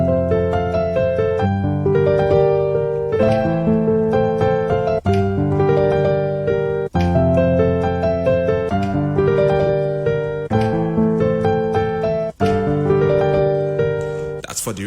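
A piano plays an intro in a rhythmic pattern, with chords repeated in a steady pulse and brief breaks between phrases, heard up close with no talking.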